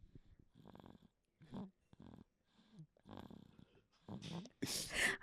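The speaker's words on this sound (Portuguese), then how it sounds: "Olha o ronquinho do nenê." Soft, rhythmic snoring breaths from a sleeping baby, several snorts in a row, close and quiet, ending with louder rustling noise.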